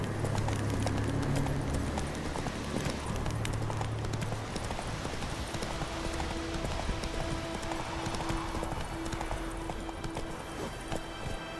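Roach the horse gallops in The Witcher III with steady rhythmic hoofbeats clip-clopping close by, running continuously over a busy ambient game backdrop.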